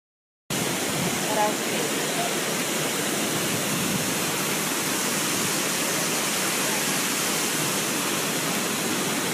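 A waterfall gives a steady, dense roar of rushing water that fills the whole clip at close range with no breaks.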